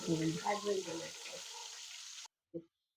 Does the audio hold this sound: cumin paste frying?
yes